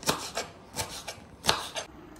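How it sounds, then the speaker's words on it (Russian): A knife chops about 150 grams of fresh basil on a cutting board for a tomato sauce, giving several crisp, uneven strikes close by, with no voices. "Нарезаем базилик."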